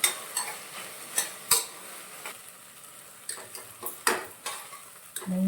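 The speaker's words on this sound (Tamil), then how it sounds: "தக்காளி இப்போ வதங்கும்" Tomatoes sautéing in a pan for a leftover tomato curry dish, with light sizzling and a series of sharp scraping stirs and utensil clacks at irregular intervals, fairly close and moderately quiet.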